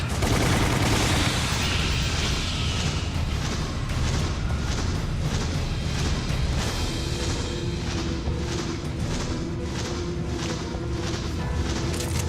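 A machine gun fires continuously in a video game, dense rapid bursts and booming impacts rolling on without pause, loud and close.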